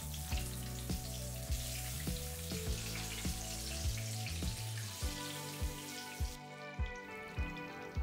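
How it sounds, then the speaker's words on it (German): Halves of feta fry in hot oil in a pan for saganaki, giving a steady crackling sizzle with regular soft knocks and clatters, heard close up with no one talking. "Die Feta-Hälften dann im Öl schön anbraten und auch auf die Seiten drehen, sodass alles schön durchbräunt."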